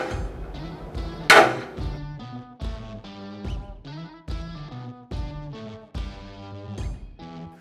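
Impact Poly dual-faced hammers, Canadian-made with flared hockey-stick style handles, strike a 135G bucket in a series of about a dozen sharp hits. One blow lands noticeably harder, and each impact rings briefly with a hollow plastic resonance.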